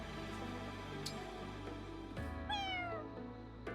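Cats meowing inside the video game Fire Emblem Engage, several rising and falling mews over steady game background music, with no talking.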